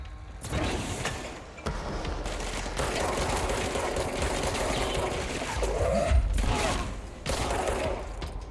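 Dense bursts of gunfire from the video game Control crackle almost without pause, loud and close, with brief lulls and a few sharper, heavier shots.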